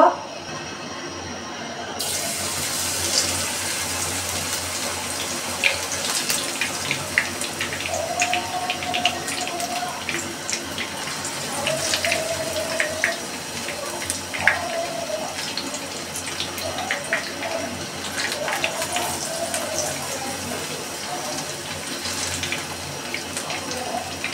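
Eggplant fritters (beguni) frying in a pan of hot oil, a steady dense hiss and crackle with scattered pops running throughout at moderate level.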